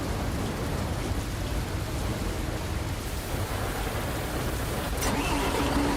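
Rain patters steadily on a bus windscreen, a dense, continuous hiss mixed with a low engine rumble, even in level throughout with no voices.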